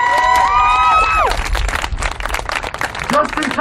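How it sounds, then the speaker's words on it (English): A crowd at a street protest rally breaks into loud clapping and cheering right after a voice speaks over a microphone, with dense overlapping claps and shouts continuing through the clip. "Clap it up."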